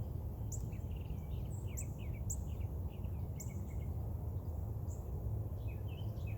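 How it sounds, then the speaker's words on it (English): Birds chirp and trill repeatedly at a distance over a steady low rumble of background noise, with faint insect buzzing. "Birds sound great this morning."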